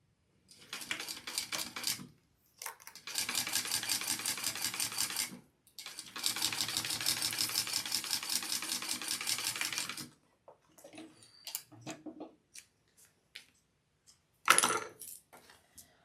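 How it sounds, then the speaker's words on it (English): A sewing machine stitching a bag seam, running in long steady whirring bursts of rapid needle strokes separated by pauses, then a few short clicks and taps. "And then I'm going to sew along that with my seam allowance that's in"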